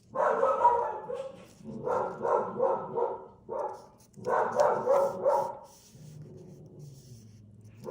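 Dogs bark in repeated bursts of several sharp barks with short pauses between them, fairly close and loud, in a home while a holiday paper craft project is under way, ending in a softer whine.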